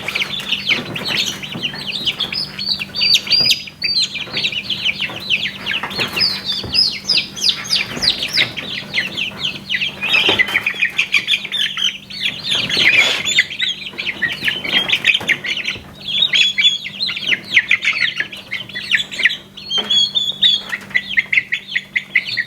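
A small bantam rooster clucking and squawking, a steady run of busy bird calls close by, with other chickens chirping around and a low hum beneath.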